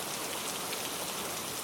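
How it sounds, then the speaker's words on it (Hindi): Steady, dense rain falls in a Hindi cartoon story, a loud even hiss of drops filling the whole short stretch with no voices. "गोलू बच्चे को झोपड़ी में छुपा देता है और खुद बारिश में भीग जाता है"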